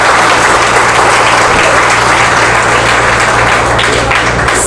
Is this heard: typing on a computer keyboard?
no